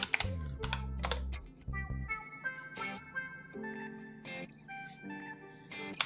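Quick bursts of typing on a computer keyboard enter a DOSBox command, with close, crisp key clicks in short clusters over soft tonal background sounds.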